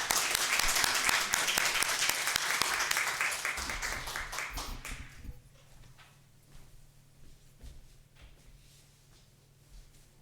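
A church congregation at a Sunday worship service gives a warm round of applause for a visiting pastor: loud, dense clapping for about five seconds, then tapering into scattered claps over a low room hum.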